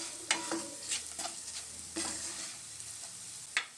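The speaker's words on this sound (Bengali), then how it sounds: "কিছুক্ষণ মশলাটা ভেজে নেব।" Spice paste with ground coriander frying in a pan over a medium gas flame for a vegetable chop, with close, steady sizzling and repeated scraping stirs of a spoon against the pan.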